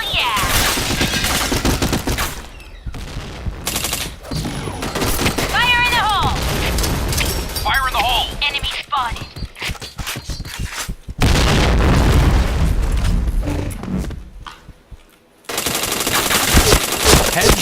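Rapid automatic gunfire bursts and heavy grenade blasts from the online shooter Point Blank, loud and dense, in repeated volleys separated by brief quiet gaps, with game voice callouts and players talking.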